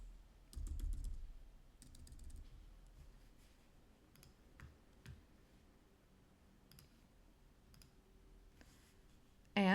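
Keys clatter on a computer keyboard in short bursts of typing, with separate sharp clicks between them. Close and fairly quiet in a still room, with a louder clack at the very end.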